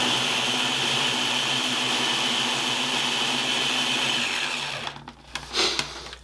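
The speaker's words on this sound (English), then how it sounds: "I'm just going to pop the lid on here, and we're just going to whisk it around here real quick" Lidded electric mixer whisking dry scone ingredients, a steady loud whirring hum that runs for several seconds before switching off, followed by a few light clattering knocks.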